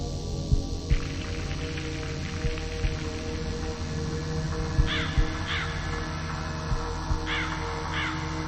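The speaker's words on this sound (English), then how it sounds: "So that's crows." Crows caw in the game The Lost Crown as strange recorded sounds from the painting Tree of Crows, with several paired harsh calls a little distant over a steady low hum and throbbing drone.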